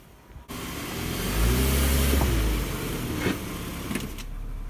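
A BMW E53 X5 3.0 engine idles, then revs and pulls forward as the SUV drives up onto wooden blocks, the motor swelling loud for a couple of seconds before settling back to a steady rumble with a few light clicks.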